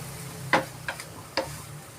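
Prawns and spinach frying in a pan, stirred with a few distinct scraping clinks over a faint steady sizzle, close and fairly quiet.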